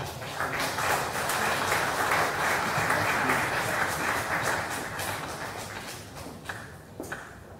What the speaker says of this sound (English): Another round of applause for that wonderful poem